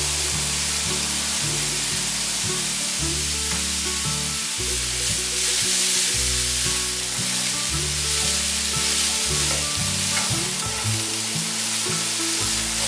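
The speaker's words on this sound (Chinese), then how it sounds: "大略翻炒一下" Cabbage and carrots stir-frying in a pan, a steady close-up sizzle and hiss over soft, tonal background music.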